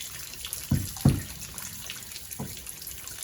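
Water trickles and splashes unevenly as it drains out of a Sea-Doo Speedster jet boat's pump, with a few louder gurgling spurts over a steady background hiss, close by.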